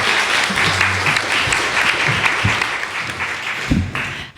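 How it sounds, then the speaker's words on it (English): Audience applause at a New York 17 congressional candidate event fills the room, steady and loud for several seconds before fading out, with a few voices mixed in. "You can clap."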